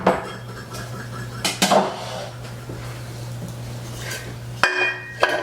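Kitchenware clatters on a counter as pans and utensils are shifted aside to bring a tube pan over while making fruitcake, with sharp metallic clanks at the start, the middle and the end, and quieter shuffling between them.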